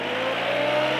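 Engine of a truck-mounted King Lifter forklift revving at full throttle, a loud sustained roar holding steady with a slight rising pitch throughout, close by with no talking.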